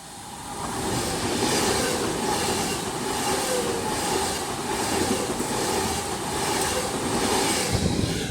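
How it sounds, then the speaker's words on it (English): Avanti West Coast Class 390 unit 390043, running from London Euston to Manchester Piccadilly, passes close by at Gatley on the West Coast Main Line. The steady, loud rail roar and wheel rumble hold throughout, with a rhythmic clatter and faint squeal. "39043 with an Avanti West Coast service to London, from London Euston to Manchester Piccadilly"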